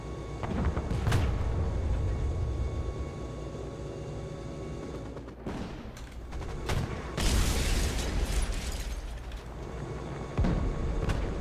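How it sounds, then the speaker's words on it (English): Tank gunfire arrives from the side in the War Thunder battle game, loud booming impacts and crashes breaking through a constant rumble of machinery, with a sharp, bright burst near the middle. "shots coming from my right"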